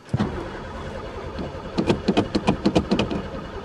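A Pontiac engine with no spark cranks without catching, a close starter whir that settles into about nine rapid, even pulses before the clip ends, with no talking.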